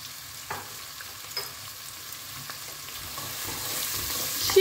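Carrots and onion with a little salt sizzle steadily in a hot pan, a soft continuous frying hiss with occasional light clicks of stirring, growing slightly louder toward the end.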